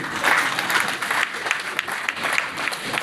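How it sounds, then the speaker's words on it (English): Audience applause for a provost at a university inaugural lecture, a steady dense patter of many hands clapping for about three seconds. "Clap for him"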